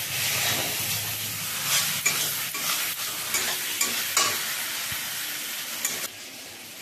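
Yogurt-marinated chicken with salt, turmeric and pepper plus masala frying in hot oil: a loud, close, steady sizzle and hiss with scattered spoon scrapes and stirring knocks, easing slightly near the end.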